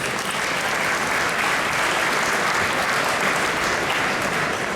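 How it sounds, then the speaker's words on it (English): Steady applause from a large audience at the opening of a tech conference in Berlin, dense and sustained throughout without a break. "you could clap for her"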